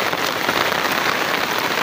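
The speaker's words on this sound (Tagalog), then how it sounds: "Lakas na rin ng ulan" Heavy rain pours down in a dense, continuous hiss of drops striking surfaces, loud and steady throughout with no voices.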